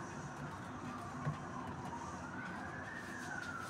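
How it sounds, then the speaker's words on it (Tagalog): An ambulance siren wails faintly in the distance, its slow rising tone barely above a low, steady background hum in a kitchen. "Ambulansya."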